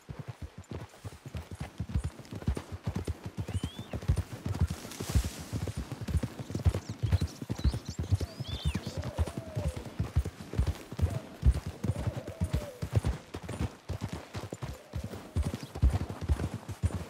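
Horse hooves clip-clop at a steady trotting rhythm close by in Red Dead Redemption 2, continuous throughout, with a faint whinny or two in the background.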